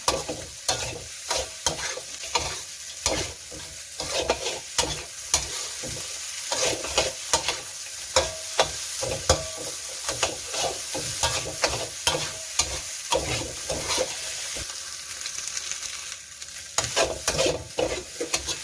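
Rice is stir-fried with onion and carrot in a hot pan, with repeated scraping and tossing strokes of a spatula over a continuous loud sizzle, rhythmic and close.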